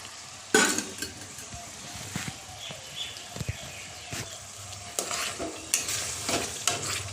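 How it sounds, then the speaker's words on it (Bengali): Chopped onion sizzles in a hot pan for doi chicken, a steady close crackle with repeated knocks and scrapes of a spatula stirring it. "এবার আমরা পেঁয়াজ কুচিটা দিয়ে দেবো। দেখো পেঁয়াজ কুচিটা দিয়ে দিচ্ছি।"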